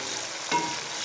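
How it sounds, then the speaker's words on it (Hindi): Garlic-ginger paste sautés in a pan for a potato, spinach and fenugreek dish, a soft continuous sizzle with one brief stirring scrape midway. "अब हम लहसुन और अदरक का जो पेस्ट बनाया है वो भी बीच में शामिल कर देंगे और इसको हल्का सा सौते करेंगे"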